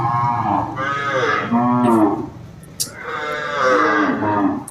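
Cattle brought for Qurbani in Bangladesh moo loudly and close by, two long, deep, drawn-out calls with a short gap between them and no talking.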